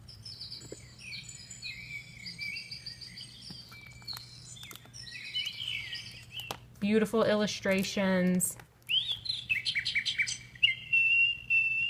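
Chirping birdsong plays with crickets behind it, and a voice speaks briefly over the sounds partway through.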